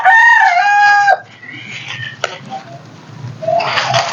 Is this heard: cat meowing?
no